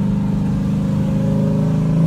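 A Mercedes-AMG SLK55 engine drones loudly and steadily, its pitch rising slightly as it accelerates.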